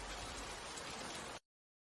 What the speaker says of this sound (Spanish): ¿Quieres escuchar la lluvia?